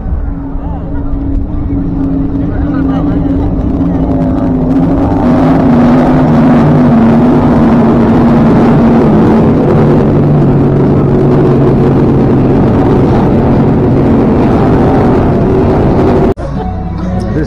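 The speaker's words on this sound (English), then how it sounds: "Here is a race boat that is going to race later, I guess." A race boat's engine at Key West drones loudly and steadily at close range, a deep continuous rumble with a slowly shifting pitch that cuts off abruptly near the end.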